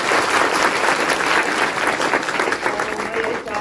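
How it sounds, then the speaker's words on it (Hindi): A large crowd at a public meeting on SC/ST reservation and a Bharat Bandh call gives loud, sustained applause throughout, a dense, even wash of clapping with no pauses. "सब लोग अगर सहमत है तो जोरदार ताली से समर्थन करें"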